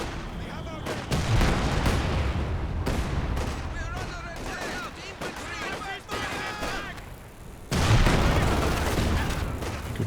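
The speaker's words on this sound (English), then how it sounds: "Good rifle nade in there" A rifle grenade explosion and gunfire in the video game Company of Heroes 2: booming blasts and bursts of rifle and machine-gun fire in battle, with in-game voices mixed in and a strong blast near the end.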